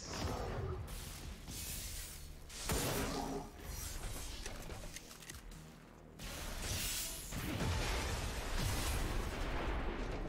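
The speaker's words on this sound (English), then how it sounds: "The explosion doesn't mean anything to us." Explosions and weapon blasts in the video game XCOM 2 come as several broad bursts with rumbling tails, fairly quiet overall, separated by brief lulls.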